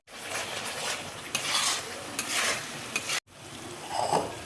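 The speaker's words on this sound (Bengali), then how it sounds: "মশলাটা দেখো ভালো করে কষিয়ে নেব।" Spice paste with paneer, cashews and raisins frying in oil, with close sizzling and several scraping stirs of a spoon against the pan, broken by one brief pause.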